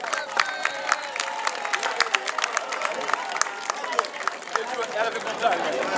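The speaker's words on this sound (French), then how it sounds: "Applaudissez mesdames, mesdemoiselles, messieurs." A public meeting audience claps, an irregular patter of scattered hands over crowd murmur and speech, fairly close and steady, without building to a roar.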